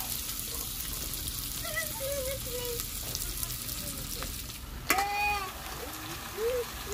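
Onions frying in hot oil with bay leaf and cumin for a home-style mutton curry, a constant close crackling sizzle with occasional spatters and a clink of a utensil.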